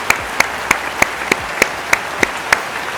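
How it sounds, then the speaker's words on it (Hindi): Sharp claps ring out at a product launch event in a steady, evenly spaced rhythm, about three per second, like one or a few people clapping close by. "जोरदार तालियां इन दोनों के लिए दोस्तों।"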